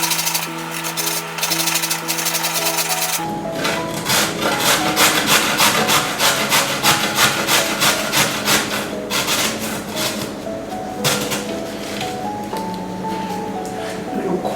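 Knife cutting a carrot for a quick chow mein, a close, loud run of rapid, regular crunching chops and slices lasting several seconds.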